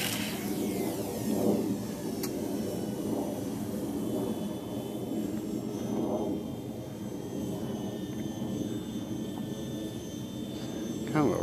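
A Cessna Corvalis 350 single-engine airplane takes off, its engine droning steadily and loudly from inside the cabin with a constant propeller hum and slight surges.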